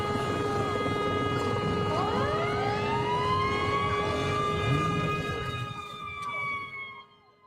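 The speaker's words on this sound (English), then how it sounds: "An ambulance coming from the scene." A wailing ambulance siren with rising and falling tones sounds over a low rumble in Los Angeles as it leaves a scene with blasts, then fades out near the end.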